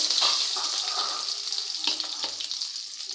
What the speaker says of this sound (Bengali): এখন তেল গরম হয়ে গেছে। এখন আমি দিয়ে দেব কেটে রাখা পেঁয়াজ এবং মরিচ।